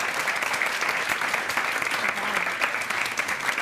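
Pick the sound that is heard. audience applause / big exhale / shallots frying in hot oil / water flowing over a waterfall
audience applause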